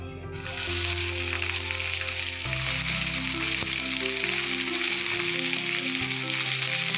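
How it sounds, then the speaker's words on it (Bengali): Onions hit the hot oil for fried masoor dal in a village kitchen, raising a loud, close, continuous sizzle and spatter that holds steady for several seconds, with faint stirring and a low background hum. "এবার পেঁয়াজ দিয়ে দিচ্ছি"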